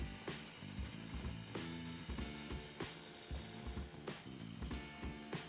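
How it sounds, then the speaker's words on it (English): Concrete surface saw scoring through an industrial urethane coating on a structural slab, a loud dense mechanical grind with rhythmic chattering pulses, continuous throughout. "The process starts with surface saw cutting."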